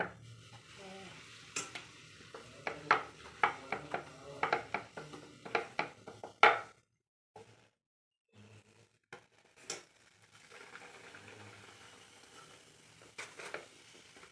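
Luchi, puffed flatbread, frying in hot oil in a pan, giving a close sizzle with sharp clatters and stirring scrapes at first, then a brief quiet before softer, scattered frying noises resume.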